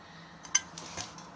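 Metal cookware clinks as a frying pan is handled, a few faint, light taps and a small sharp clink, close by in a quiet room, with no talking.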